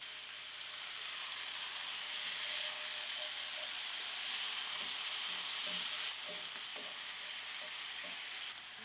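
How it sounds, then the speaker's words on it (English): Beef stock poured into a hot pan of butter for garlic butter steak bites, giving a steady, loud, continuous sizzle with faint stirring clicks throughout. "Now into the pan, add the beef stock."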